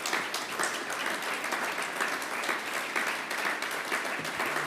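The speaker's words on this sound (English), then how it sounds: "feel free to applaud" Sustained audience applause following a line in a political speech by Boris Johnson in Manchester, a dense steady clapping from a large crowd lasting throughout with no talk over it.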